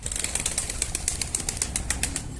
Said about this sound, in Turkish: kanat sesleri çok güzel ama